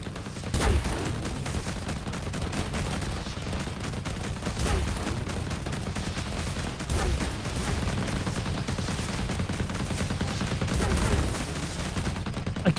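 Artillery cannons fire in a space combat video game: a dense, continuous stream of rapid booming shots and blasts, loud and close, with no clear pauses across the stretch.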